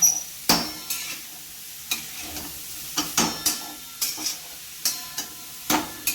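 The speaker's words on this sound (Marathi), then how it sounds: "या अशा पद्धतीने त्याला छान तुपामध्ये परतून घ्यायचं आहे" Grated carrots for carrot halwa are stirred and fried in ghee, with a light sizzle under a rhythmic series of close scraping strokes of a spoon against the pan.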